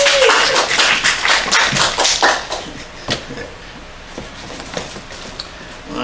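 Crowd clapping applause at a snake-handling show with flute playing, a dense burst of many hands at first that thins into scattered claps and fades toward the end.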